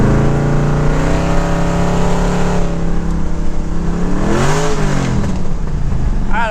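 Continuous loud engine drone from a 5.3 LS V8 with automatic transmission, suspected rod knock and a questionable shift linkage, rising and falling in pitch as it downshifts into second gear, heard close up with no talking.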